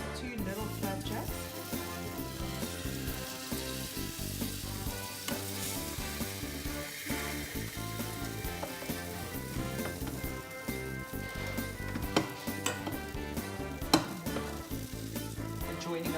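Two small pumpkin flapjacks sizzle in a small frying pan, a steady, close crackle that runs unbroken without talk.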